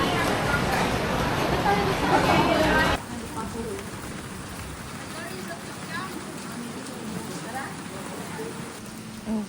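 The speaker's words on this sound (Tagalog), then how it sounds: "Grabe ulan ngayon." Heavy rain pours over Jiufen, Taiwan, a dense steady hiss that is loudest for the first few seconds and then settles into a softer, continuous wash with faint background voices.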